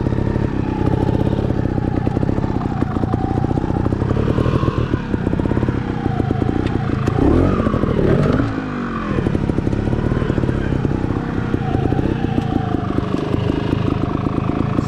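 A trials motorcycle held in second gear runs off-road on a track-cutting ride, its engine droning steadily and close throughout, with throttle swells and a brief dip partway through.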